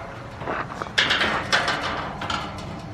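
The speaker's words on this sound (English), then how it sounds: "It just slides in and bolts in." A festive metal gate slides along and bolts shut, giving a scraping run followed by several sharp metallic clanks and rattles, close and fairly loud, with no voices.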